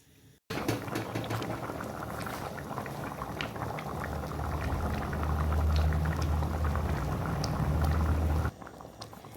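Ghugni curry bubbles in a pot, a dense, steady boiling burble that starts abruptly, grows slightly fuller, and then cuts off just before the end, with no voices over it.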